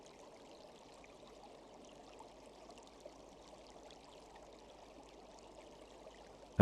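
A gentle river flows and trickles continuously at low volume, a soft, even water wash with no voices, set in a jungle setting.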